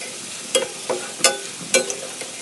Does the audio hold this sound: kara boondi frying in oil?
yes